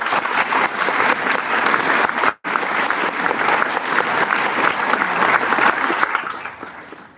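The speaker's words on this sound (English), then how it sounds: "you all deserve a huge round of applause." Sustained applause from a graduation hooding ceremony audience, a dense, steady clatter of many hands that breaks off for a split second, resumes at full strength and then tapers slightly at the end.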